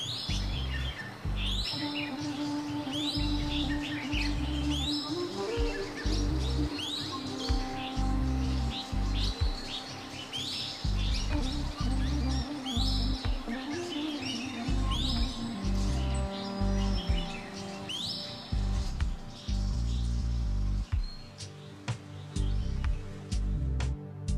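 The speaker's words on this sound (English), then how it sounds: "Birdwatchers will be delighted by the sound of birds" Several birds chirp and tweet repeatedly in bright, short calls, overlapping throughout against a low outdoor rumble.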